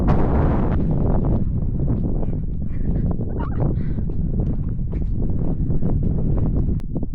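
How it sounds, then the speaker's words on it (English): Strong wind buffets the microphone on a coast path on the Lizard Peninsula heading toward Kynance Cove, a loud, constant roaring rumble that goes on throughout. "it's getting to the point where I really want to get out of the wind."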